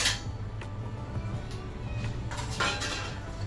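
A plate is handed over for a homemade sandwich in a home kitchen, with faint clinks and clatters of dishes and cutlery spread through the quiet background.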